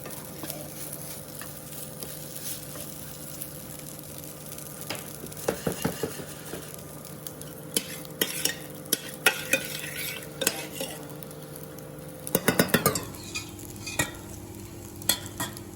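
Gnocchi frying in a pan, a continuous soft sizzle with scattered scrapes and clinks of stirring that grow busier and louder toward the end.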